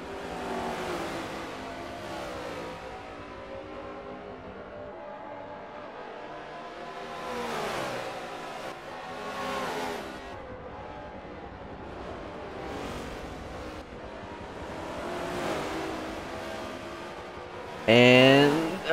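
NASCAR race cars in a sim racing game lap Watkins Glen, with engines rising and falling in repeated revving sweeps as cars pass, then a loud sudden burst at the end.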